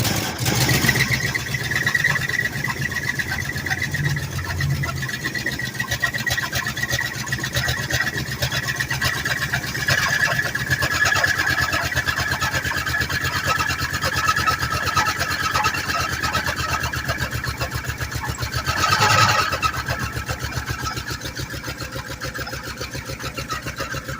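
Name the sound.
Lincoln car engine cranking, trying to start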